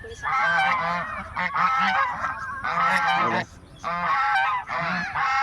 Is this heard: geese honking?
yes